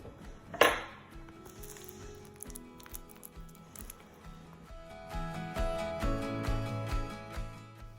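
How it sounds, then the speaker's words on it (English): A ripe banana gets mashed in a bowl, with a sharp clink of utensil on the dish near the start followed by soft, repeated squishing and scraping strokes that grow busier toward the end, close and fairly quiet. "1 ripe banana that I'm going to mash"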